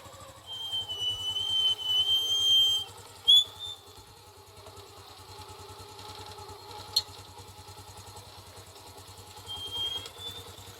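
A small tricycle motorcycle engine, freshly overhauled, idles steadily with a low, even putter, joined by a faint high whine and an occasional clank nearby.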